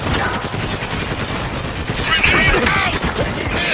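Heavy machine gun fire in the video game Spec Ops The Line rattles as a dense, continuous burst of loud shots, close and constant across the whole stretch.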